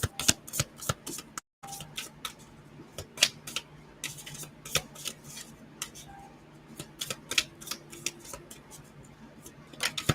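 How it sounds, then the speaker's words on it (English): Oracle cards from an Inner Eye Oracle deck being shuffled at length: a dense run of crisp papery snaps and riffles, close and fairly quiet, with one short silent gap and no talking. "I have to shuffle out, it seems like, extensively to get them to"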